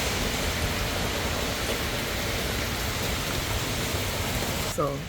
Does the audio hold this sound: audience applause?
no